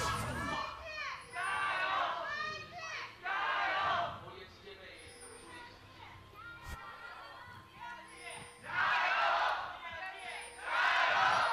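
Esports arena crowd at an LPL Spring 2018 match between VG and BLG swells into loud cheering and chanting in repeated waves, with commentators talking in between.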